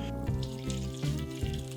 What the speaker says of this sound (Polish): W tej chwili do garnka z czosnkiem i botwinką wlewam wodę.